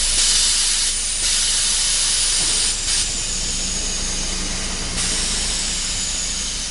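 Compressed air rushing out of a car's manual air suspension as it drops to 0 PSI, a loud continuous hiss with abrupt stops and restarts as the valves open and close.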